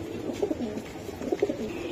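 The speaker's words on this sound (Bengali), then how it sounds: "এটা একটা ইরানি কবুতর ভাই" An Iranian pigeon coos nearby in a few soft, low throaty bursts spread over a couple of seconds, with no voices.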